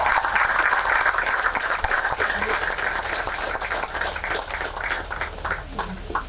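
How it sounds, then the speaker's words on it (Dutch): Sustained applause from an outdoor crowd at a school campus foundation-stone ceremony, clapping steadily and fairly loudly with some individual claps standing out, and a faint voice now and then beneath it. "Een geweldig applaus!"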